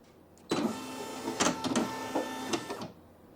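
A Brother PE900 embroidery machine drives its embroidery hoop with a buzzing, whirring motor sound in several short stepped movements lasting about two and a half seconds, close and fairly clear.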